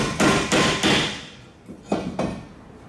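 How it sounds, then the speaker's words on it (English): A rubber mallet taps a wheel hub part out of a BMW E36 during a wheel bearing replacement, giving three quick sharp knocks, a pause, then two more, close and distinct. "use a rubber mallet to tap it out."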